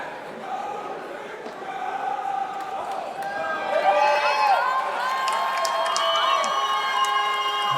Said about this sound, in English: Enthusiastic supporter you may hear in the crowd.